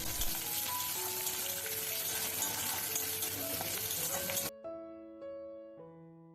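Chopped onions sizzling in hot oil with cumin seeds and bay leaf for an omelette curry, a steady crackling fry heard under background music that cuts out abruptly toward the end.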